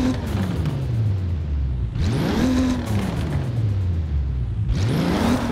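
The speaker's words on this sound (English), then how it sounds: "There is the turbo flutter." Twin-turbo 2.0 engine of a 1992 Toyota Supra GT in a racing game revs and falls, with brief fluttery turbo bursts between gear changes; a steady, loud, close engine tone throughout with no talk.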